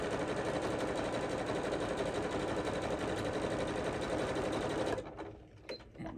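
A sewing machine stitches fabric fast and continuously in a rapid mechanical chatter for about five seconds, then stops, leaving faint clicks and handling noise.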